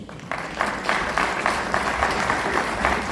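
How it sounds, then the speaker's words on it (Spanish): Audience at an education event applauds as Monsignor Álvaro Zapata comes up to the head table, a moderate, steady clapping heard from some distance with a soft room wash. "le recibimos con un voto de aplauso"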